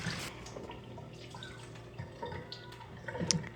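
Running water trickles and drips as washed peppers are rinsed, a faint, uneven splashing with small clinks, growing slightly busier toward the end.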